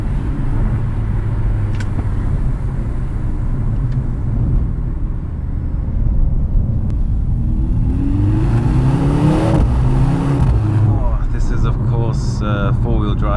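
A 670 bhp Mercedes C63 AMG with four-wheel drive and no V8 drives along with a loud, steady engine rumble and road roar that rises into a rev, while a driver talks throughout.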